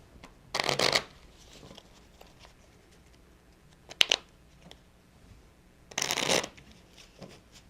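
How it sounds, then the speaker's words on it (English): A new deck of playing cards is riffle-shuffled in three crisp bursts, near and clear, separated by quiet pauses and a brief tap in between. "I'm going to shuffle them."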